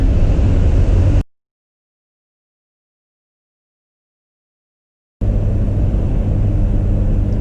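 Low, continuous engine rumble from a garbage truck somewhere in the background outdoors, heard briefly before dropping to silence and then resuming steadily for the last couple of seconds.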